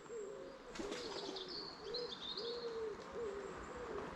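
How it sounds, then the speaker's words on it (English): Wood pigeons cooing in the countryside, a repeated soft rhythmic hooting phrase at moderate distance over a quiet outdoor hush, with faint higher bird chirps behind. "Yeah, the wood pigeons."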